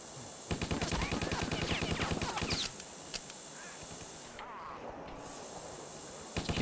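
Rapid bursts of gunfire crackle in Stubbs the Zombie, a dense volley of shots for a few seconds, then scattered single shots and a short final burst.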